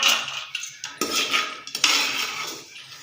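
Fried almonds being lifted out of a pan with metal utensils, giving repeated close clinks and scrapes of metal against the pan over a steady background hiss.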